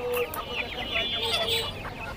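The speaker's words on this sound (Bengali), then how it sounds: "এই একটা মোরগ একটা মুরগি" A rooster and a hen, about four to four and a half months old, clucking at a busy pigeon market in Khulna, with dense overlapping bird calls and market noise close by.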